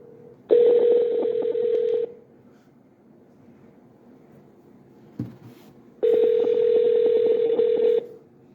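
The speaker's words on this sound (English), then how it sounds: "I was going to give a phone call to the CEO" A telephone being dialed for a call: two loud bursts of rapid keypad tones about four seconds apart, separated by a short click, with no talk.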